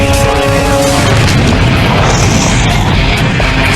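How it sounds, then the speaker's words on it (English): A leaking propane mist cloud ignites next to a truck, a loud, sustained explosive roar with deep booming rumble and crashing burst that fills the entire moment at close range. "2 seconds later, the flammable mist ignites."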